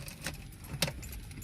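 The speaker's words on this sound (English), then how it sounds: "you're gonna want to take the ignition, turn it on" A car's ignition key is turned on with a brief metallic jingle of keys and a click close by, followed by a second jangle, set against a quiet room.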